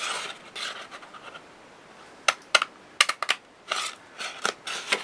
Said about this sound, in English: We're going to cut out these corners here.